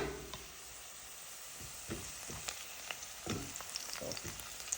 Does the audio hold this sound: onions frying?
yes